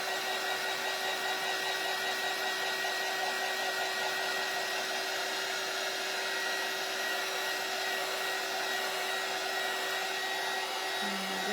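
A hair dryer blows steadily on a freshly painted black door hanger between coats, a loud, continuous close-up whir that holds without break for the whole stretch.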